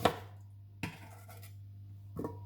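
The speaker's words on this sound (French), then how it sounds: "Les oignons, on concasse aussi, on s'embête pas" A knife roughly chops onions for a brown veal stock, giving three soft, separate chopping thuds spaced about a second apart over a low steady hum in a quiet kitchen.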